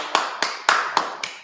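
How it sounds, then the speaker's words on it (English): Five sharp, close handclaps ring out in an evenly spaced rhythm in a small class gathering, with brief quiet gaps between them. "Let's clap it up"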